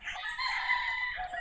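A gamefowl rooster at a game farm crows once, a short, close, loud and steady call lasting just over a second.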